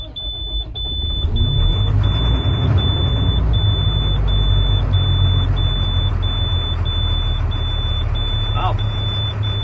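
The diesel engine of a 2007 International 7400 6x6 truck runs loud and steady after starting, rumbling close up with a repeating high electronic beep above it.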